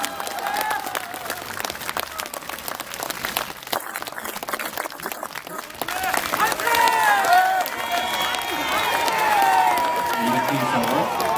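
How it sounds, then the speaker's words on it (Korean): An audience applauding at a statue donation ceremony honouring President Park Chung-hee, dense clapping that swells and continues steadily, with a speaker's voice and crowd murmur mixed in. "역시 박수를 부탁드리겠습니다"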